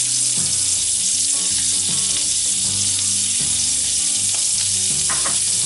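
Hamburger patty seasoned with salt and black pepper frying in a pan, a loud continuous hissing sizzle with crackles and pops throughout, close up and without talk.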